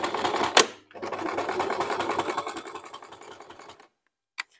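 A sewing machine stitches a shoulder bag around a curve, running in a steady close rapid rattle for about three seconds after a brief start, then stopping with a faint click.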